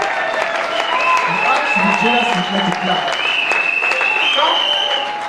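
A church congregation claps steadily in a sustained round of applause, dense and close, with voices and a brief melodic vocal line mixed in beneath the clapping.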